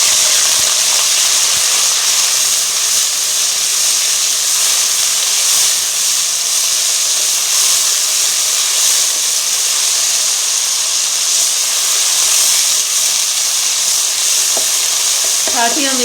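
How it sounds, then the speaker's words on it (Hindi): Water is poured into a pan of fried onions for a vegetable pulao, and a loud, dense hiss and sizzle fills the whole stretch with a constant, close roar of steam, plus a few small clatters near the end. "प्याज मेरा फ्राई हो चुका है। अब मैं इसमें पानी शामिल करूँगी।"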